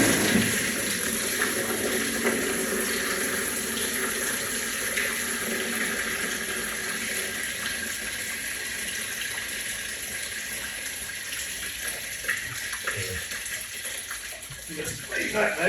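Coolant drains from the disconnected bottom radiator hose of a Ferguson FE35 vintage tractor, a steady broadband splashing gush that stays constant and fairly loud, with faint speech in the background.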